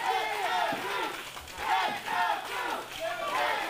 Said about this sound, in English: the fans clapping their hands, showing their appreciation for the Love Machines